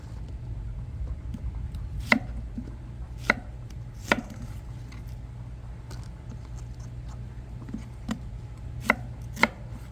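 Onions chopped into big chunks with a knife: sharp, irregular thuds of the blade meeting the board, about eight distinct strikes spread over a low steady background hum, with no talking.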